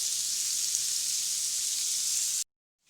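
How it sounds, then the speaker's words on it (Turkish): Vegetables sizzle steadily in a hot pan, a bright continuous hiss that cuts off abruptly near the end. "Şimdi servis tabağımıza sotelediğimiz sebzelerimizi alalım."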